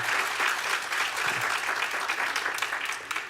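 An awards ceremony audience claps steadily at moderate distance, a sustained even patter of many hands without voices on top.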